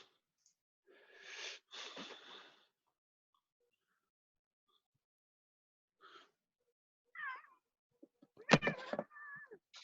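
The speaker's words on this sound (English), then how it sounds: "That would be, oh, the cat interference." A house cat meows during an indoor discussion, giving a few clear drawn-out cries and a louder strained caterwaul near the end, with short bits of speech between.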